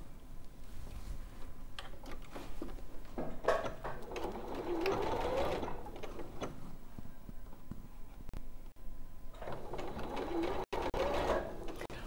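A sewing machine runs in steady whirring bursts at a sewing shop, loud and close, with a pause between runs and a brief stop before it starts up again.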